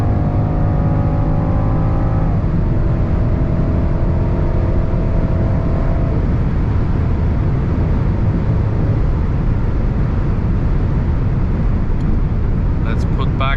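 An Alpina B5 Touring estate car drives fast on the Autobahn at night, with a loud, steady engine and road roar that shifts through gears early on, and someone speaking over it.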